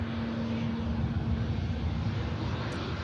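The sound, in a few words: EasyJet Airbus A320neo airliner vacating the runway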